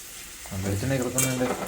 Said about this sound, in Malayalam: ആ പപ്പടത്തിനെ എടുത്ത് എണ്ണയിലിട്ട് കറവറ കറവറ കറവറ വറുക്കുകയാണ്